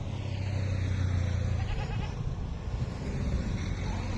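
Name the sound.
goats bleating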